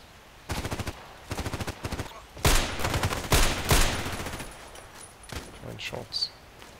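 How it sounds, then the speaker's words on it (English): Video game gunfire in a shooter: rapid automatic bursts followed by louder single shots and crackling volleys, close and loud. "Shots."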